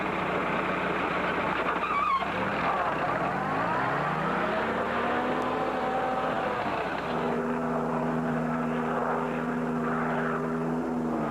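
A highway patrol helicopter flies over the desert, a loud, continuous engine drone whose pitch sweeps down and then levels off as the aircraft passes and holds overhead.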